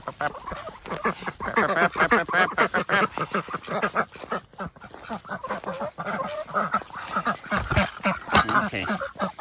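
A duck quacking close by among chickens and other fowl, with rapid repeated calls mixed with clucking in a barnyard, while a person talks intermittently over the birds.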